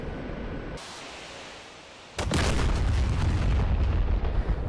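An AGM-114 Hellfire missile strikes its target in the DCS flight simulator, fired from an OH-58 Kiowa Warrior helicopter: a sudden broadband blast cuts through a steady engine and rotor drone, then swells into a loud, sustained roaring rumble.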